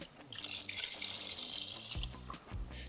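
Epoxy thinner is poured into a container of tinted epoxy, a faint liquid hiss and trickle lasting about a second and a half, followed by a couple of soft knocks and clunks.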